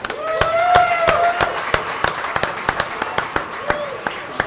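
Sparse, evenly paced claps from a small group in a round of applause for a DJ at a Rowdy Cowboy Show reunion, crisp and close, with voices heard early before the clapping continues alone.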